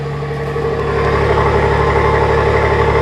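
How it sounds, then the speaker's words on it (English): Ford F-150 Tremor pickup engine idling close up, a steady low rumble with an even hum. It grows a little louder after the first second, then holds level, with no voices. "That 6-cylinder sounds surprisingly extremely good, and the 5-liter V8 sounds even better"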